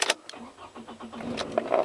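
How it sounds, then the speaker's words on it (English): A car engine is started up close, with a short cranking rumble and clicks building into a low idle over about two seconds. "So each time you start your vehicle, I'll start it now"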